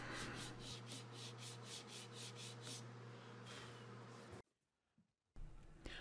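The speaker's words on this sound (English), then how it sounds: "take some sandpaper, put it on a sanding pad here, and basically sand a chamfer or a bevel on this side of the box" Sandpaper on a sanding pad rubs a chamfer along the edge of a wooden keepsake box, rhythmic back-and-forth strokes close up, then a short pause before the scraping resumes.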